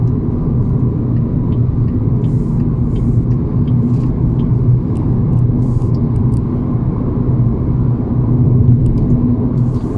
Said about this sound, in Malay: Saya kurang selesa lah kenapa ada bunyi tayar.